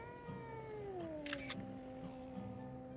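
A cat meows in the horror video game DreadOut 2, its cries rising and falling over a steady droning tone and faint game ambience.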